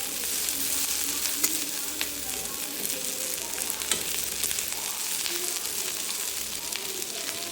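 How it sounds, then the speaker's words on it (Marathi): Chopped onion sizzles and crackles steadily while roasting in a pan, a dense continuous frying hiss at close range with faint scraping, no talking. "आता कांदा भाजत आला"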